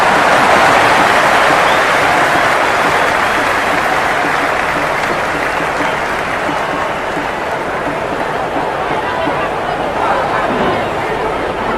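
Dense crowd roar from a stadium in the cricket video game Cricket 26, India versus South Africa T20, a steady, loud wash of cheering and babble sustained throughout without pause.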